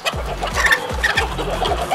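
Several close chickens cluck in quick, rhythmic bursts over a low background rumble.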